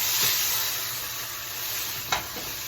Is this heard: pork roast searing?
yes